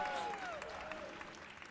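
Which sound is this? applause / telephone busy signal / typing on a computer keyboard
applause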